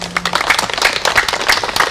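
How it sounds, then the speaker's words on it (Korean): An audience applauds vigorously in congratulation at a literary poetry and essay reading and book launch, with dense, loud clapping throughout the short stretch. "우리 힘차게 박수 한번 칩시다."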